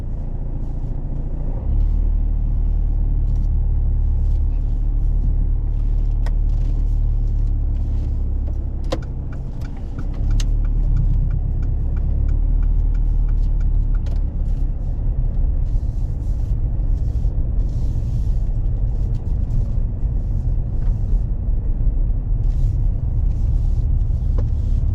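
A car pulls away during a driving lesson, its engine rumble rising and continuing as it drives along, close and steady over about twenty-five seconds, with faint interior clicks and knocks and no talking.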